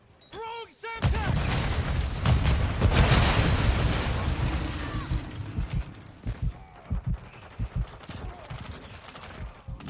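In Call of Duty Modern Warfare II, a Semtex grenade goes off with a single loud, heavy blast right after a brief shout. Its rumble fades over several seconds into scattered battlefield thumps.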